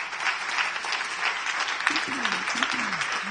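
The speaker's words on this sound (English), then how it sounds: "Last applause, please" Audience applause for an expert panel at an education technology event, steady clapping throughout with a voice speaking over it partway through.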